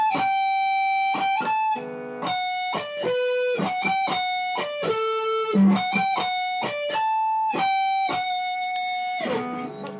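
An electric guitar with an effects unit plays a melodic lead phrase, clear sustained picked notes and slides over about ten seconds, close and steady with no voices.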